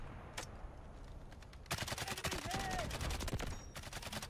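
An SMG-45 submachine gun in the game Delta Force fires a sustained automatic burst that begins partway through, loud and close, after a lone early shot, with faint game noise around it.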